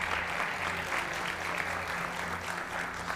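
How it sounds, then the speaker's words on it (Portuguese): A church congregation at a Sunday morning service breaks into a strong, continuous round of applause for visitors, dense clapping heard close and filling the whole moment. "Vamos dar um forte aplauso pela vida dos nossos visitantes"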